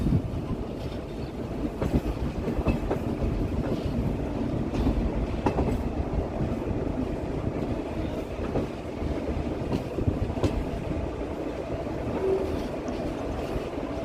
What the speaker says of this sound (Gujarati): અહીંયા તમે જોઈ શકો છો આપણો ટ્રેક સ્વિચ થઈ રહ્યો છે ટ્રેનનો.